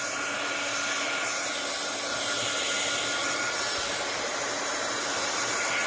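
A hair dryer drying Bob Ross gesso blows continuously at close range, a loud, steady airy roar with no pauses.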